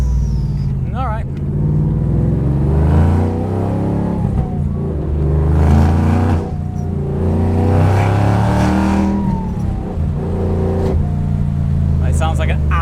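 Supercar engine from a Los Angeles collection of Pagani and Koenigsegg-class cars, revving hard in loud, sustained surges that rise and fall over about thirteen seconds, close up, with brief voices underneath.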